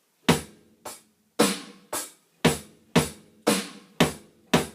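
A punchy drum groove with deep bass drum hits and snappy snare strokes in a steady rhythm, played alone and close.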